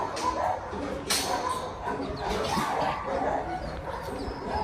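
Several dogs bark, yip and whimper at a large group dog walk for shelter dogs in Marbella, overlapping sounds against a busy outdoor background with people talking.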